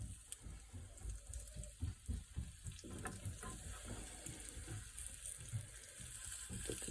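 Apricot chicken pieces browning skin side down in a hot pan give a steady, close sizzle that crackles and pops unevenly throughout, with no talking.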